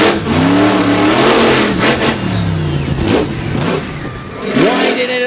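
A monster truck engine revs hard at a Durham, Connecticut monster truck show, rising and falling through several loud, close throttle bursts with a rough, bassy growl and a final sharp climb near the end.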